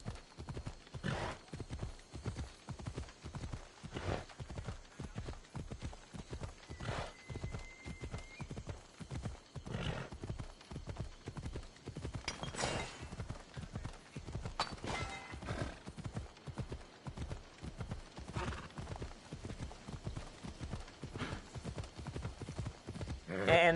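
A horse gallops in Assassin's Creed Odyssey, its hooves beating a fast, regular clip-clop close by for the whole stretch, with a few snorts or whinnies and a quiet voice talking now and then.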